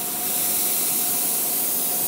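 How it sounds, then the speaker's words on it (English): An airbrush sprays maroon paint in test strokes, a loud, steady close-up hiss of compressed air with a faint thin tone running through it, uninterrupted and without any talking. "I'm just going to do a few test strokes up here to check that the airbrush is working"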